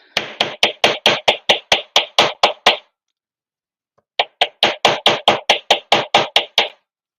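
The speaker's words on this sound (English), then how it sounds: "I'm just going to hammer this loop here, but I'm not going to hammer any of these wraps" A hammer striking a wire loop to work harden it, sharp metallic taps in two quick rhythmic bursts of about a dozen blows each, close and loud, separated by a second of silence.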